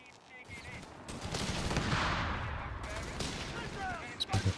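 Battle in Company of Heroes 3: a grenade launcher and gunfire erupt in a 4v4 match, a rising roar of shots and blasts swelling mid-clip with scattered cracks and a few louder thumps near the end, voices faintly underneath.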